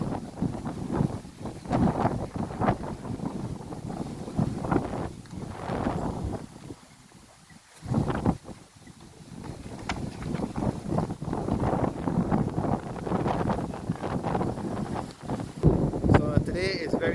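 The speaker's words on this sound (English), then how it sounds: "So today is very windy up here, as is usual around this time of the year." Strong wind blows across the microphone on a windy hilltop near an abbey, a loud continuous buffeting roar with gusts that briefly drop away midway, and speech is mixed in under the rumble.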